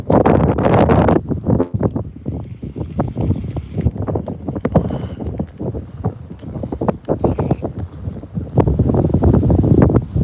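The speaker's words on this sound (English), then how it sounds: "That wind is getting stronger and stronger." Strong, gusty wind buffets the microphone while fishing on open water at Copano Bay, Texas, a loud, continuous roar with rapid irregular bursts and rumbling low thumps throughout, with no speech.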